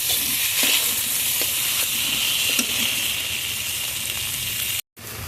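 Ground spice paste and chopped tomatoes fry in hot oil for a rui fish curry, giving a loud, steady close sizzle and hiss with faint stirring clicks and a brief cut near the end.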